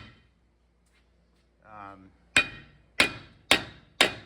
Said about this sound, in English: I just took a hammer, smacked them.